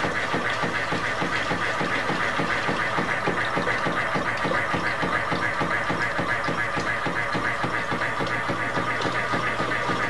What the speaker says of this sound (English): you can now see the Gulper toilet pump happily pumping the 3-inch sponge